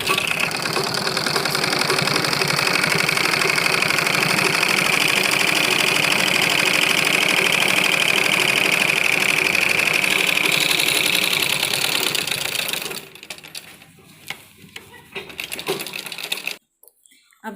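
A sewing machine runs in one long, steady, loud stretch while stitching a men's kurta, putting a line of stitching along a seam. It stops near the end, leaving a few faint clicks and handling sounds.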